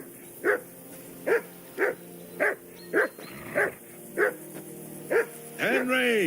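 Dog barking in the medieval game Kingdom Come Deliverance 2: about nine sharp, evenly spaced barks over several seconds, fairly close, ending in a longer whining yelp, with a voice faintly beneath.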